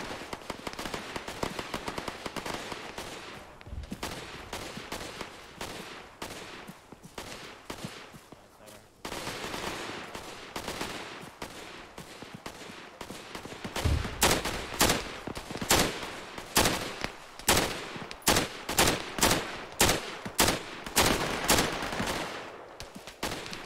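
Military video game combat with rifle fire and RPG blasts: dense volleys of sharp gunshots, some sparse, some in rapid bursts, with heavier booms mixed in, a loud sustained firefight that grows fiercer toward the end.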